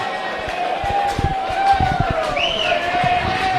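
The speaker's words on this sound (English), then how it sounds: "There's a big cheer goes up for the 22" A crowd at an amateur rugby union Premier 1 match cheers as the number 22 substitute comes onto the wing, a steady roar lasting throughout beneath someone commentator's continuous talk.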